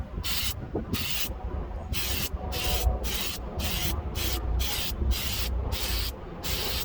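An aerosol spray paint can hisses in a steady run of short bursts, about a dozen evenly paced sprays, close and fairly loud, outdoors.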